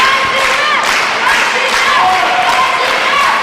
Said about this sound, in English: Crowd starting to get behind these two guys